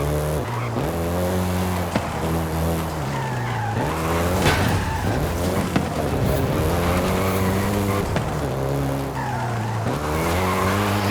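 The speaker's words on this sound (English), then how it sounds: "including the Golf GTI you're driving right now." A Volkswagen Golf GTI driven in the Forza Horizon 5 racing game, with a loud engine revving through gear changes and tires squealing and skidding throughout, no talk.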